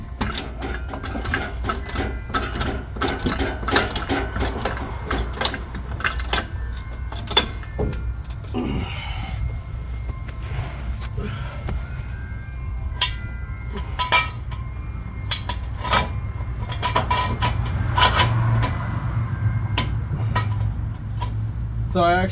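A car jack raised two more notches during a tire change gives rapid, repetitive mechanical clicking and ratcheting that runs steadily throughout, close and fairly loud, over a low background hum.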